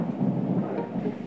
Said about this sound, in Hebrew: זה היה רעם.